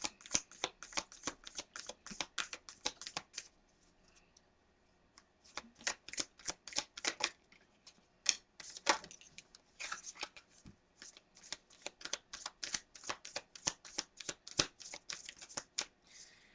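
A deck of tarot cards being shuffled in rapid, crisp riffling bursts, close and fairly loud, with a brief pause near the start and steady flicking throughout.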